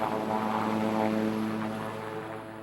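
A helicopter descends with its collective pitch lowered, the engine and rotor giving a steady droning hum with a tonal buzz that eases slightly, moderately loud and alone without talk.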